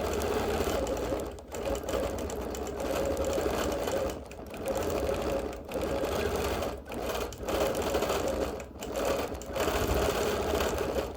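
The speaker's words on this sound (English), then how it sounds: "We're doing a lot of quilting" A sewing machine stitches steadily through a busy-print quilt during custom quilting, its loud, continuous motor hum broken by a few short pauses between runs.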